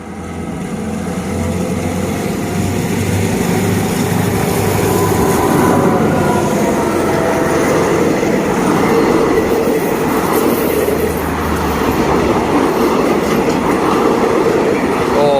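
An express passenger train rumbles past close by at a level crossing at dusk, loud and continuous, with rhythmic clattering wheels on the rails and a faint squeal near the end.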